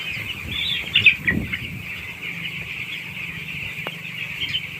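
Ten-day-old broiler chicks on a farm peep in a steady high chorus while a brief burst of wing flapping and scuffling rises near the start, close and without talk.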